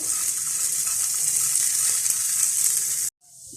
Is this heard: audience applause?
no